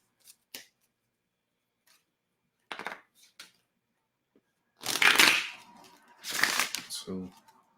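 Tarot cards are shuffled in quick riffling bursts, a few soft taps at first and then two louder, close shuffles toward the end, with no speech.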